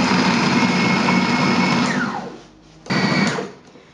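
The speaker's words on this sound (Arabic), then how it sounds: "كنحاولو نطحنو ونوقفو باش ما يتعجنش، الا يجينا معجن بزاف" Electric grinder whirring steadily as it grinds sardines into paste, loud and close, then stopping briefly and starting again before winding down.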